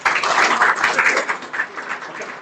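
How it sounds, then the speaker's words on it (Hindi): An audience claps at a poetry event in an Indore academy hall, a brief burst of dense applause that peaks early and then thins and fades over a couple of seconds. "तालियां होनी थी यहाँ"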